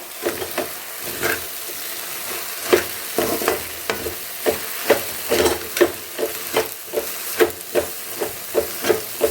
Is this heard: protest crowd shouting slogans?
no